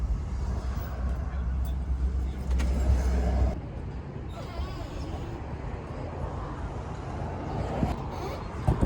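A car fitted with a new stainless steel exhaust, its engine rumbling steadily close by, swelling louder for a few seconds and then settling into a lower drone.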